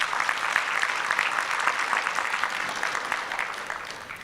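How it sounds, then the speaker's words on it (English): A conference audience applauds in a dense, sustained wash of clapping that holds steady and starts to fade slightly at the end, with no speech over it. "Let's give SG one good round of applause"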